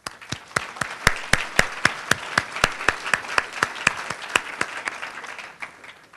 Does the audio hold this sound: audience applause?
yes